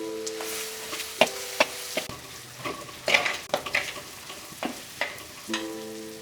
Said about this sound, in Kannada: ಟೊಮೊಟೊ ಚೆನ್ನಾಗಿ ಮೆತ್ತಗಾಗೋದು ಫ್ರೈ ಮಾಡ್ಕೊಳ್ಳೋಣ.